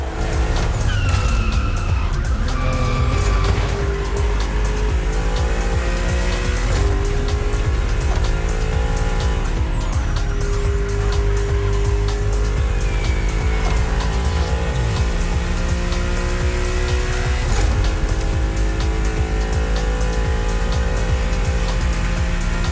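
A Liberty Walk tuned BMW in The Crew Motorfest revs hard through rising and falling gear changes, with tire squeals and skids over a continuous loud engine drone, while a background siren-like tone wavers.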